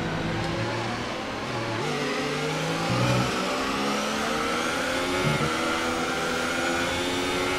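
An F1 race car engine in the game F1 2018, at the Bahrain circuit, drones loudly and continuously with rising and falling pitch as it revs while being driven. No one talks.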